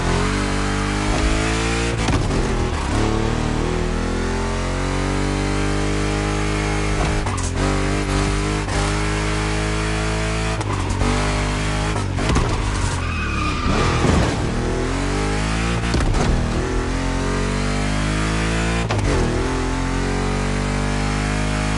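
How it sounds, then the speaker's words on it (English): Two Chevy big-block cars racing in The Crew Motorfest, engines droning loud and steady with repeated tire skids and squeals through tricky turns, no talk over the continuous roar. "Two Chevys, two big blocks, but only one winner."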